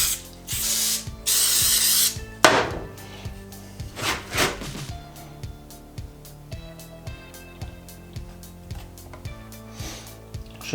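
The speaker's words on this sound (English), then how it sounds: "spray the activator down in there" Super glue activator sprayed from an aerosol can onto a glued workshop camera gantry part: two bursts of close, loud hissing spray near the start, followed by lighter mechanical clicks and handling noises.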